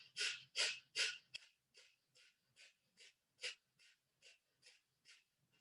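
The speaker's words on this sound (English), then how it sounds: "it's like kind of a quick inhale and exhale, as if you're blowing out a candle with your nose" Rapid, forceful nasal breaths from a Kundalini yoga breathing exercise, about a dozen sharp puffs in steady rhythm, the first few loud and close and the rest softer, with no talking.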